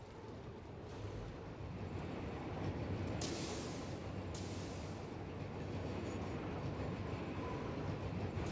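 A train in the Satisfactory video game rumbles past steadily for several seconds, with a broad rolling rail noise and brief hissing bursts, heard alone without talk.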